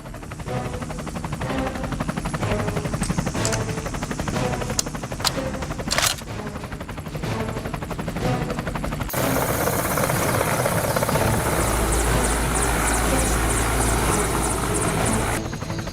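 A helicopter flies and descends during a gunfight scene in an action film. Its rotor drone is steady and close throughout, then swells into a louder, broader roar over the second half.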